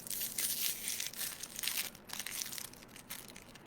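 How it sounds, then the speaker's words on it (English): Chocolate unwrapped from crinkly packaging, close and continuous crackling and crumpling with brief pauses, and no voices. "Now the next step is to unwrap the chocolate."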